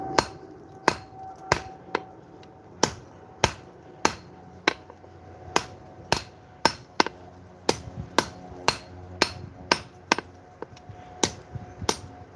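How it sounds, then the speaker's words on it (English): Sharp metallic hammer blows ring out on hot metal at an anvil as a flat is forged, roughly one or two strikes per second in an uneven but steady rhythm, close and loud with no talk. "let's go back to the anvil. And I'm going to just forge a flat on that side so I can rivet it."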